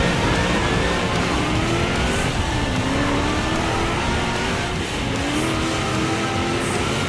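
A Lamborghini Centenario and a Ferrari LaFerrari lead a pack of race cars off the start in Forza Horizon 3 at Byron Bay, engines roaring loud and continuous with revving and layered passing cars.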